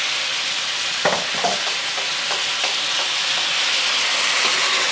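Black pepper beef sauce hisses and sizzles steadily in a hot pan as it heats through, with a few soft stirring scrapes over the close, continuous frying noise.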